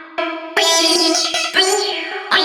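A chopped vocal sample drenched in reverb from a ReverbShaper pitch rhythmizer preset, sustained tonal phrases cut into rhythmic segments with wide, washy tails blending between chops.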